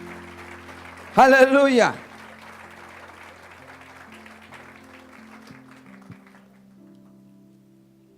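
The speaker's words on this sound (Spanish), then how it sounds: "Alguien tiene que aplaudir a esa palabra." Church congregation applauding during a sermon: a loud shouted voice cuts in briefly, then soft, steady clapping runs under it for several seconds before fading away.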